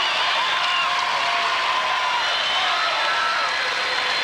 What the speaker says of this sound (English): Crowd is applauding both teams.